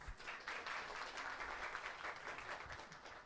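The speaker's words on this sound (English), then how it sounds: "please give a big hand to the Bangladesh Student Club" A student audience at a Vesak Day university event applauds the Bangladesh Student Club, a steady wash of clapping filling the room at moderate, somewhat distant volume for a few seconds.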